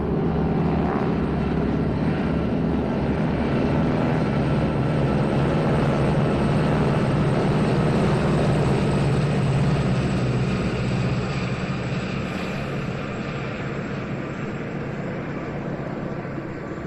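A Stinson aircraft flying in an air show formation, a loud, steady engine drone heard from the ground that stays constant throughout with only slight changes in tone.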